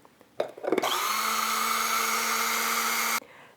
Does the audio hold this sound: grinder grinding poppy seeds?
yes